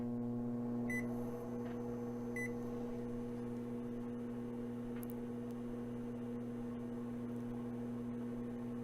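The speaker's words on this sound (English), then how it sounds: "Press it once and the microwave will start automatically and will run for 30 seconds." A Smeg over-the-range microwave oven, model OTR316XU, runs after a press of Add 30 seconds, a steady low electrical hum with a couple of short button beeps near the start, close and quiet with no voices.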